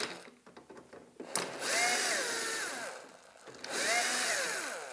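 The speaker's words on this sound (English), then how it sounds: "Okay, I see a screw, I remove the screw," A power screwdriver backs a screw out of a mechanical sewing machine cover. After a few light clicks, the motor whirs up in two rising, falling bursts, close and fairly loud, with a short pause between them.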